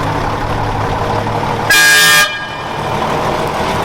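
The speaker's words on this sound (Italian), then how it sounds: "Prova clacson, c'è!" A loud horn on an old Fiat 682 N2 truck blasts once for about half a second over an idling engine rumble, then the engine continues alone.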